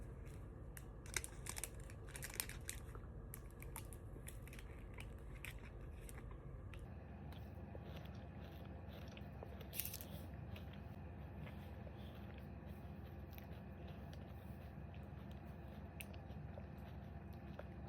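Someone eats a chewy Dubai cookie close up, with faint crinkly bites and soft chewing over a low, quiet background and no talking.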